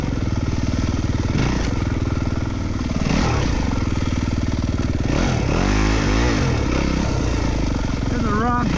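Yamaha WR250F dirt bike engine roars and revs continuously while riding a trail on timed loops, loud and close throughout, with a rider's voice talking over the engine at times.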